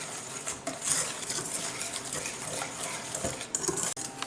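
Buttercream icing ingredients, icing sugar with milk and vanilla, mixed in a bowl: close scraping and clinking of a utensil against the bowl, continuous and fairly even, with no talking.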